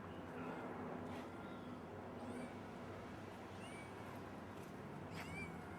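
A little cat gives a few short, faint meows, spaced a second or more apart, over a steady low background hum with no one speaking.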